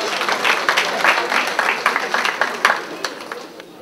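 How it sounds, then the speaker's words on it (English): Audience applause for a speaker arriving at a celebration event, a crisp burst of clapping that gradually thins out, with voices mixed in. "Let's give him a big round of applause."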